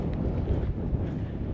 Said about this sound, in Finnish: On vilponen tuuli täällä kärjessä.